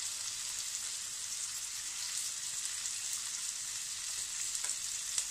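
Onion skins with red, green and yellow capsicum fry in a pan for chilli chicken, a steady hissing sizzle at moderate level with light stirring, no voices.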